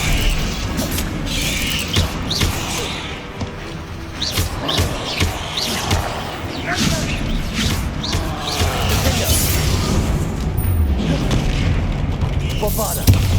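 Bombarda spell blasts in the Hogwarts Legacy video game go off as a series of loud booms and crashing impacts with clattering debris, amid busy game effects.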